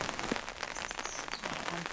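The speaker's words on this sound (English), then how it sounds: "we're just going to do some gardening in the rain" Steady rain pattering on plants and soil in a spring garden, a dense soft hiss with scattered close drops, continuous and fairly quiet.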